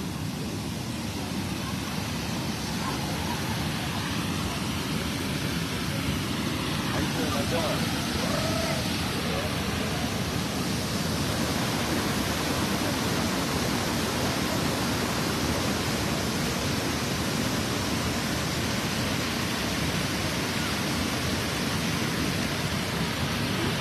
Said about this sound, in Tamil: தண்ணி செம்ம போர்ஸா விழுது